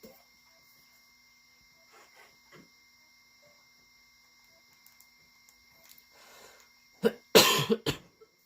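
A broken Nintendo Switch's cooling fan whirs nonstop as a faint, steady high whine with a low hum beneath, while scattered soft noises drift past and a loud cough-like burst breaks in near the end.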